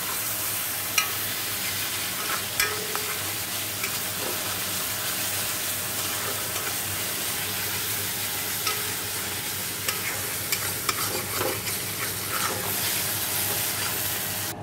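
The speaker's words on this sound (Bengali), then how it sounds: "আদা রসুন পেস্ট, একটু জিরের গুঁড়ো, একটু কাশ্মীরি লঙ্কার গুঁড়ো দিয়ে ভালো করে কষে জল দিয়ে দেবো" Ginger garlic paste, cumin and Kashmiri chilli powder stir-fry in a pan, giving a steady close sizzle with scattered scraping and stirring knocks throughout.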